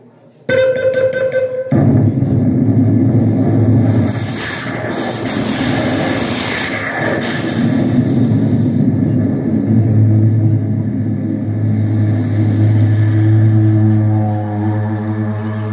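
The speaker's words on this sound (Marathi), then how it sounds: "पहा एअरलाईनचं विमान आपल्या गिर्यामध्ये कसं येणार" A steady, loud rumbling roar, like an approaching aircraft engine, fills the scene at a village jagar festival for Shri Devi Chaudeshwari in Girye, Devgad, Konkan. It starts with a sharp onset after a short tonal hum and holds with little change.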